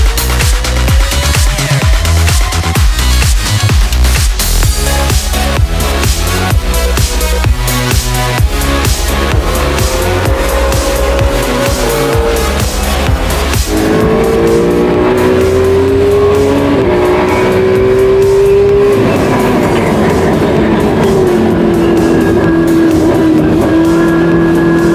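Race car lapping the Ruapuna circuit while bedding in new brakes and tyres: a loud, close, continuous engine roar with rising revs and repeated gear changes throughout.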